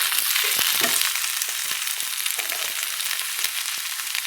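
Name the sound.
chela fish chochchori frying in a pan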